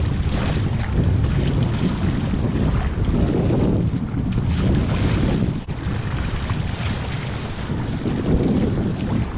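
Steady, heavy wind rushes and buffets the microphone while a Hobie Adventure kayak under a larger STAR sail moves across open water, with water and waves sloshing beneath the low roar and no voices.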